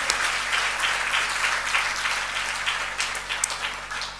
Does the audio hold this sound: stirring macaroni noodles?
no